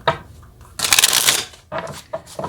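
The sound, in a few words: shuffling tarot cards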